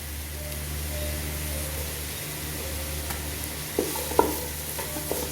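Steady sizzling and hissing of vegetables, including chopped carrots, stir-frying in oil in a pan, with a few sharp clinks of a utensil stirring near the end.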